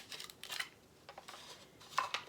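Scissors snip and scrape against packing tape on a thrift-store package, giving several short crisp cuts and rustles in an irregular rhythm, close and fairly quiet with no speech.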